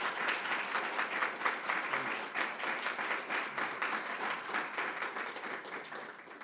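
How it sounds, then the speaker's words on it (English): Audience applause at an evening lecture on India's agriculture policy, a dense, sustained clapping from a crowd that stays fairly even throughout before easing slightly at the end, heard at moderate distance. "please join me in a hand of applause"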